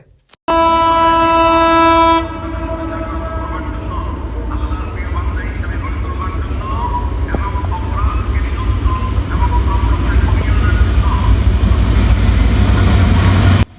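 A train on the Dhaka–Benapole line sounds a long horn blast, then roars past on the railway line in a loud, continuous rumble and clatter of wagons that fills the whole stretch until it cuts off.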